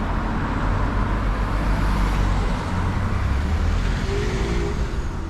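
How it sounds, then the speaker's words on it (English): A car pulls out on a busy town street in Denbigh, with a steady loud rumble of engine and tyre noise close by, blended with ongoing traffic hum and no voices. "is this car going to pull out?"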